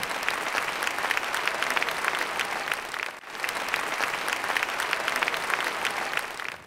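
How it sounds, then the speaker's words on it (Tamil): An audience at an Independence Day debate program gives sustained, lively applause to welcome Brother Ravikumar, a dense crackle of many hands that dips briefly midway, then swells again and carries on steadily. "சகோதரர் ரவிக்குமார் அவர்கள் வருகின்றார்கள் உங்கள் கைத்தட்டல்"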